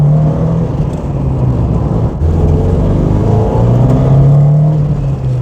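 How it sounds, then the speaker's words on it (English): A 1991 Ford Sierra RS Cosworth's turbocharged engine drones steadily up close, its pitch rising and falling as it accelerates, loud and continuous with no talking. "It's just that turbo kick, it's just a bit addictive"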